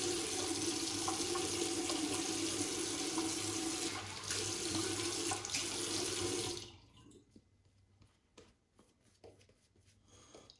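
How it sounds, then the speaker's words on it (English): Steady rush of tap water pouring into a sink during a wet shave, close and constant for several seconds before the flow is shut off, leaving quieter splashes and dripping. "Let's add a bit more water here."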